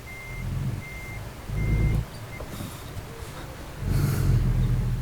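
A heavy truck with a double articulated trailer in American Truck Simulator rumbles while its reversing alarm beeps in a steady, evenly spaced pattern, the engine swelling louder in short surges.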